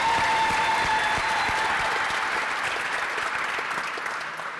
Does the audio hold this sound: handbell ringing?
no